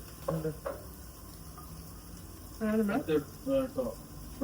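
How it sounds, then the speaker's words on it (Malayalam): Sliced onions and ginger fry in hot oil, making a soft continuous sizzle in the background beneath someone talking. "ഇഞ്ചിയും ഒന്ന് ബ്രൗൺ കളറായി വരുമ്പോ നമ്മള് അതിനകത്തോട്ട് ഉള്ളി ചേർത്ത് കൊടുക്കും"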